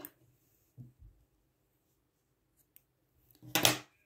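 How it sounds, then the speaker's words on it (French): Scissors snip through crochet yarn while finishing a lace-style summer beret: a single short, crisp cut near the end, following a couple of faint handling sounds in an otherwise quiet room. "Ensuite, vous allez couper votre fil."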